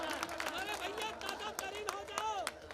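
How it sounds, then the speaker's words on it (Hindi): At a mushaira poetry recital, an audience claps in a short burst of scattered, fairly close hand claps over a chattering crowd, with voices mixed in. "आपको ये नज्म अगर अच्छी लगती हो तो एक बार जोरदार तालियां बजाएं, पीछे वाले भी बजाएं"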